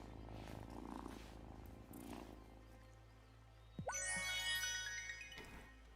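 A cat purrs softly in the video game Wylde Flowers, a low continuous rumble, followed by a bright jingling chime that rings out over the purr near the end.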